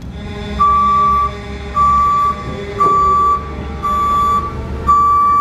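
Travel motion alarm on a Raymond 520-OPC30TT electric stacker, a loud steady tone beeping five times in an even rhythm, each beep held about half a second over a low machine hum.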